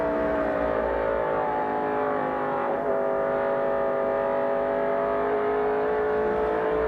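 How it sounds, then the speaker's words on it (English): A 1988 NASCAR stock car at Rockingham, Rick Wilson driving, its engine droning loud and steady as the throttle is lifted briefly and reapplied, with no voices over it. "great natural sound there from that race car as Rick Wilson gets off the throttle and on the throttle"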